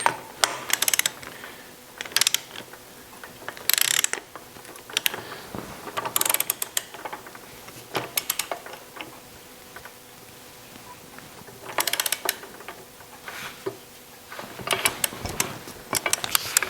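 Tightening the pinion shaft stretch bolt on an early Porsche 901 transaxle during a manual transmission rebuild, torqued near 115 Nm: irregular bursts of close mechanical clicking and ratcheting separated by quieter pauses, with no talking.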